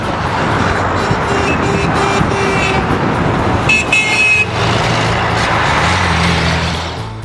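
Several 4WD vehicles climb a road in convoy on a snowy trip near Walhalla, a steady traffic rumble with engines passing close and a few horn toots mixed in.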